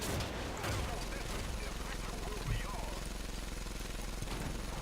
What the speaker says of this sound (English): we'll keep shooting him in the turret then